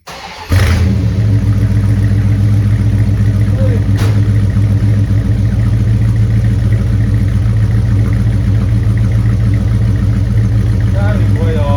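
A 1969 Dodge Super Bee with a 440 Six Pack V8 fires up with a brief whir, then settles into a loud, steady, lumpy idle with a rich choke on, close by and uninterrupted.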